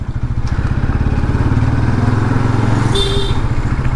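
A Bajaj Pulsar NS200 BS4 motorcycle engine runs loud and close while riding, with a steady throbbing exhaust pulse throughout and a brief higher whine near the end.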